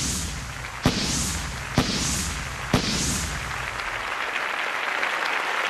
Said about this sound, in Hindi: Come on everybody, let's give him a big hand.